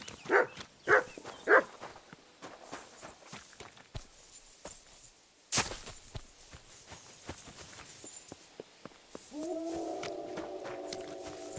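A dog in Kingdom Come: Deliverance 2 barks three times in quick succession, then gives way to footsteps, a sharp knock and a low droning hum near the end.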